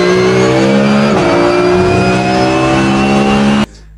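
Porsche GT3 Cup race cars rev loudly and up close in one sustained, harmonically rich engine note that dips briefly before holding steady, then cuts off abruptly near the end.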